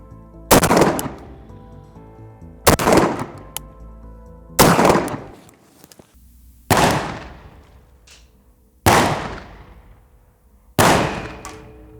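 Six loud gunshots ring out one at a time, about two seconds apart, each a sharp crack with a short decaying tail, as bullets strike various target materials at an outdoor range.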